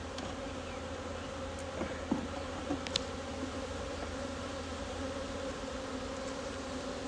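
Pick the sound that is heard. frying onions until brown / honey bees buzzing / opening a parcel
honey bees buzzing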